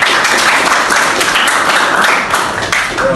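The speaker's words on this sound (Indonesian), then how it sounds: "tepuk tangan dulu sebelumnya" A classroom of students claps together during a lesson, loud, close and continuous across the whole stretch with no talk over it.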